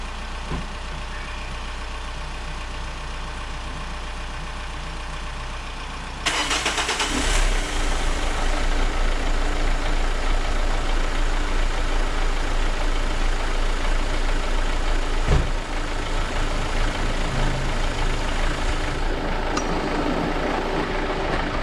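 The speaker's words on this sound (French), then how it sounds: "On redémarre tout de suite." A Renault Megane 2 1.5 dCi diesel engine, down on power with a suspected turbo fault and low on fuel, is quiet at first, then restarts and settles into a steady, loud, close diesel idle that runs on to the end.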